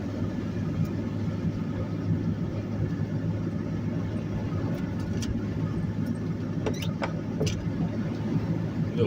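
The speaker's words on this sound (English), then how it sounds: "As soon as the last truck passes me, I'll get over it." A truck rolls past on a snowy road during a blizzard, a steady low engine rumble and tyre roar that stays loud and even throughout, with no talk.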